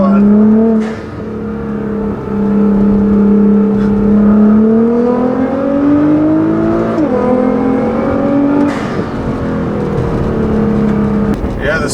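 A 2015 Nissan GT-R with a Meisterschaft exhaust, tune and GFB blow-off valves pulls hard, its engine tone climbing through gears, with sharp whooshing valve bursts at each shift.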